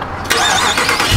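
A 2021 Dodge Charger R/T engine cranks briefly, then catches and roars to life with a loud, close, rising rev that holds into a throaty idle.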